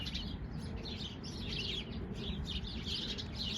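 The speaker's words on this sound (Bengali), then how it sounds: "এই ঝোপের মধ্যে কত চড়াই পাখি" Sparrows chirp in a bush during snowfall in Lynbrook, USA, with repeated small high calls close together against steady low background noise.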